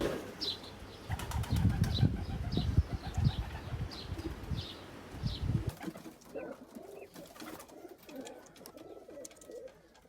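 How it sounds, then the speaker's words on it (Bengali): Wild native pigeons fly in repeatedly to a nest with straw, giving a loud burst of wing flapping mixed with soft cooing, then a quieter stretch of light rustling and faint background noise. "বারবার উড়ে আসে খড়কুটা নিয়ে আবার সে তার ঘরে চলে যায়"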